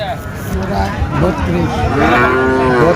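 At a busy cattle market, a Friesian cow gives a long, loud, close moo that rises and wavers for several seconds, with crowd murmur and voices underneath.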